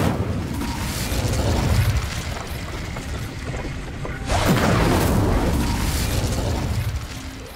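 Incendio fire spell erupting in Hogwarts Legacy, a loud whooshing burst of flame with rumbling low end, swelling again midway into a second roaring blast, no talking.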